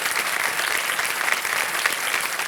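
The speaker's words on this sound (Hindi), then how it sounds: "एक बार फिर तालियों के साथ हम उनका अभिनंदन करते हैं।" Studio audience applause on the KBC (Kaun Banega Crorepati) Season 14 game show: a dense, steady wash of many hands clapping at once, loud and continuous throughout with no voices over it.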